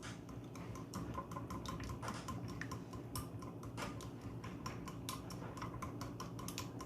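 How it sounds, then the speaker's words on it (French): Egg yolks are whisked with salt in a bowl, a faint, quick series of light ticking clinks from the utensil against the bowl, repeating steadily and close. "Donc pour les jaunes d'œufs, je vais ajouter une demi-cuillère à café de sel et je vais mélanger"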